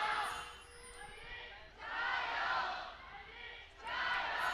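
At a 2018 LPL Spring Split esports match in Shanghai, an arena crowd roars and cheers in swelling waves, with a caster's voice faintly underneath.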